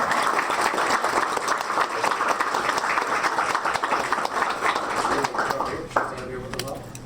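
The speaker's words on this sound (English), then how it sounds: "So I think we all should give her a good round of applause." Audience members at a town council meeting applaud for several seconds, a dense patter of clapping with voices mixed in, tapering toward the end as talk resumes.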